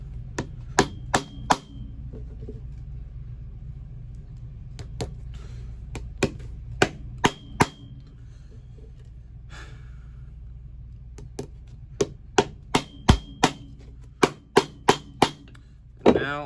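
Close, sharp hammer strikes drive nails into the sole of an Allen Edmonds shoe being restored. The blows come in quick bursts of three or four, separated by pauses, and the last cluster is the fastest.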